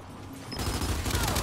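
Loud gunfire erupts in the Gears 5 video game, a dense burst of shots that starts suddenly and keeps going over a low, rumbling battle backdrop.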